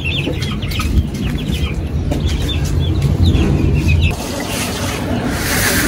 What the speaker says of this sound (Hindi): ओहो हो मुर्गियाँ भी कैसे खा रही हैं।